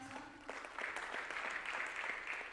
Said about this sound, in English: Give them a better clap for everyone now.